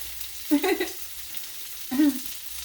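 Food for a shrimp po boy sizzles steadily in a pan as a soft, constant hiss, broken by two brief, louder tonal sounds.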